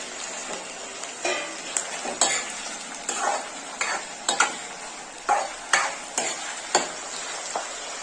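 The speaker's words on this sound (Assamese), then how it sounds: "এয়া আদা নহৰু পেষ্ট গ'ল" Ginger-garlic paste frying in a pan for an Assamese duck curry with ash gourd: a soft background sizzle broken by a dozen or so sharp scraping clacks of a spoon stirring, with no talking.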